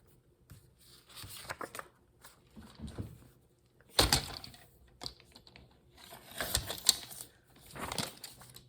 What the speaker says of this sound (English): So I'm going to cut it down